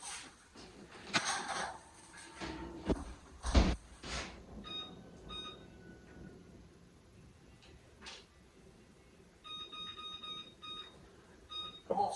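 An oven door thumps shut, followed by a run of short electronic timer beeps in the kitchen, fairly faint, with some quieter handling knocks between.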